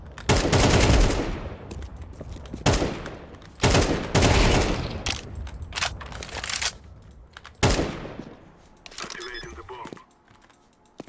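Rapid gunfire bursts from Counter-Strike 2 in a competitive match, loud sprays repeating several times across the clip, with mouse clicking and keyboard taps in between and a voice speaking over parts.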